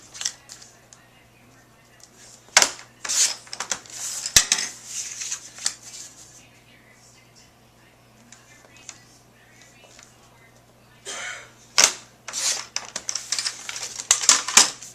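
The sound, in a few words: trimming a paper piece for a memory book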